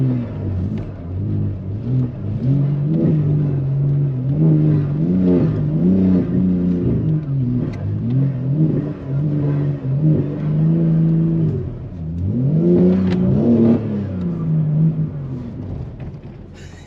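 BMW M3 G80 with xDrive revving and pulling into a snow-covered driveway in a New York snowstorm, engine rising and falling in steady surges, loud and close, with a final hard rev near the end.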